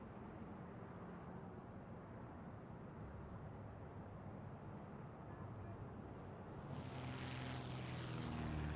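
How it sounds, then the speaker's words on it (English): Propeller aircraft engines hum steadily at an airport in the Airport CEO management game, a continuous low drone that swells louder near the end as a brighter, rushing engine tone rises in. "I can see aircraft queuing up"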